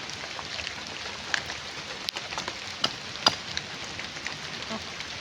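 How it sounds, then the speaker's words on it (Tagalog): Heavy rain pours down in a constant broadband hiss, with occasional sharper drops or knocks standing out against the steady downpour. "malakas po yung ulan basang basa na po kami"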